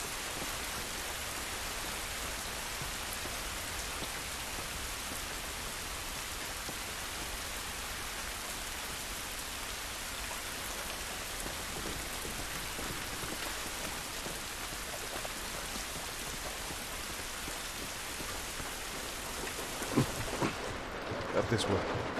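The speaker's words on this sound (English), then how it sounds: "This rain ain't gonna do us any good." Steady rain pours down in The Last of Us video game, a dense, even hiss that holds for the whole stretch, with a few brief sharper knocks and spoken lines near the end.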